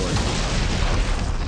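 A grenade blows apart a wall in a video game, a loud, dense burst of rumbling blast noise that fills the whole moment without a break.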